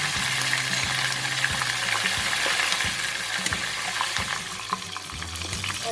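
Stingray pieces deep-frying in hot oil with chili, a steady loud crackling sizzle with occasional scraping stirs and clinks.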